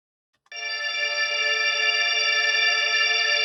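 A sustained granular-synthesis harp tone blooms in after a brief silence, shimmering and steady with echoing delay and reverb, a dense harp-like pad holding to the end.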